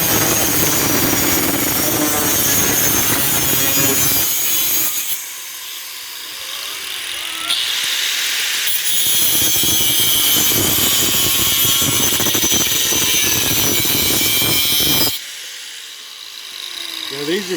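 An angle grinder cutting and shaping a saw blade into a knife outdoors in a backyard, giving a loud, close whine in long runs broken by short pauses as the wheel comes off the steel.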